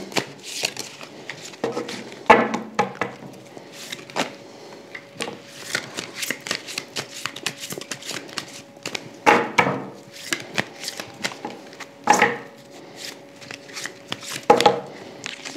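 A tarot deck being shuffled by hand gives a string of quick riffling bursts and soft card slaps, with louder shuffles recurring every few seconds against a quiet background.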